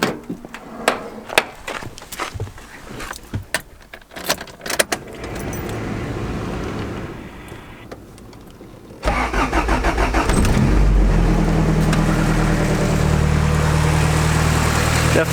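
A turbocharged car engine cranks and catches, then settles into a steady, loud idle after some clicks and rustling.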